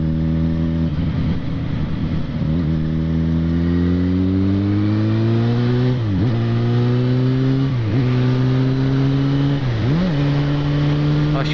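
Yamaha XJ6 motorcycle accelerating through its six gears, engine pitch climbing steadily then dropping at each of several upshifts, loud and close with a steady rising drone and no talk.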